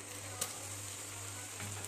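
Spice paste of ground green chillies, dried red chillies and cumin sizzles steadily in a pan with potatoes for an aloo dum, a continuous close frying hiss with a couple of faint stirring knocks and no talk.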